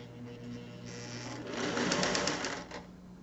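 A sewing machine stitches fabric in a short burst, its motor whirring up to a steady buzzing rattle that peaks midway and then eases off, close and fairly quiet, with no talk.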